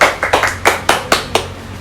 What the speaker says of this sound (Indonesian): Gini kalau tepuk tangan ya.